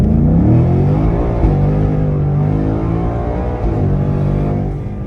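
A new Ford Mustang accelerates hard, its engine roaring loudly and steadily up close with rising harmonic pitch for several seconds, easing slightly near the end.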